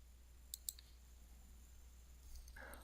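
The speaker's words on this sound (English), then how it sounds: "We'll periodically click the Refresh button." A computer mouse clicks a software Refresh button twice in quick succession, faint and close against a steady electrical hum, followed by a soft brief rustle near the end.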